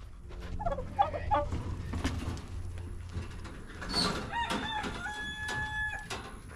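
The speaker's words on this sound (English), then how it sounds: "Where's this rooster at?" A rooster crows repeatedly, fairly close by, amid other clucking and gobbling poultry calls.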